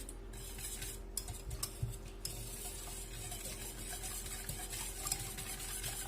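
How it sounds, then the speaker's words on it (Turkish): Whisk rapidly beating a mixture of starch, vanilla and sugar in a bowl, a faint, steady clicking and scraping rhythm heard close up with no talking. "bir paket vanilya ve 4 yemek kaşığı şeker. Bunları iyice çırpıyorum."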